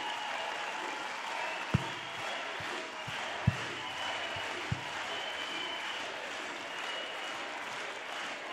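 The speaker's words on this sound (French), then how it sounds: "Un tonnerre d'applaudissements pour Mélanie Vogel." A big audience at a Europe Écologie campaign rally for the 2024 European elections applauds in a steady, broad wash of clapping, with a few sharp thumps standing out and crowd voices underneath.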